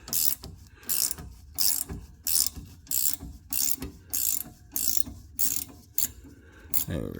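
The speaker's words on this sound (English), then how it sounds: "you got to grab a vice grip and just clamp it onto the end because it's squared off like this one" Vise grips clamped on a squared-off rear strut nut of a 2010 Ford Taurus SHO are turned, giving a regular series of loud, close metallic ratcheting bursts about every half second.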